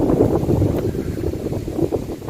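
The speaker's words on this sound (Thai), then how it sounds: "โอ้ยเพื่อนๆได้ยินเสียงลมไหม" Cold wind blowing at a popular mountain viewpoint on the road to Bo Kluea district, Nan province, heard as a steady, close, rumbling buffet across the microphone with no voices.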